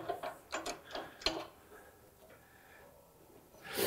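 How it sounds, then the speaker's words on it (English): A wrench rotates a bracket on the feed auger of a MacDon FlexDraper header, giving a run of sharp mechanical clicks and ratcheting ticks over the first second and a half, then quieter handling and one more click at the end. "Now with my wrench, on the bracket here, I rotate this."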